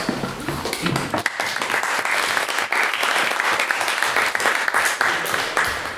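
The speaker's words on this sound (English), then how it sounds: "I'm not really sure why we applaud there." Dense, steady applause from a debate audience right after the vote result is announced and the motion falls, filling the room for the full stretch without letting up.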